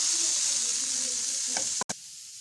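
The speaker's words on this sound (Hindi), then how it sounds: "साथ साथ मेरी जो है वो गोभी फ्राई हो रही है।" Cauliflower frying in a pan for vegetable pulao, a steady close sizzle with a brief stir near the end and no talking.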